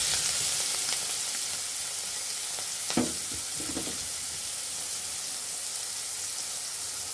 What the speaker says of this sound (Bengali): এখন আমরা চিংড়ি মাছগুলো ভেজে নিব।